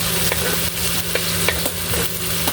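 Garlic sizzling in hot oil for Filipino chicken adobo (halang halang), with steady frying crackle and a few stirring scrapes, close and continuous.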